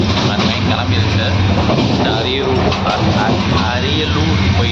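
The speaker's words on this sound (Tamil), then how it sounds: "ட்ரெயின் கிளம்பிடுச்சு." A passenger train on the Trichy to Chennai run pulls out, heard from inside the carriage as a loud, steady rumble and rattle that fills the space without a break.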